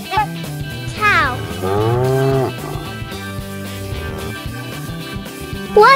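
A cow gives a long, loud moo that holds steady for about a second, following a short rising call, over light background music in a children's animal-learning sequence.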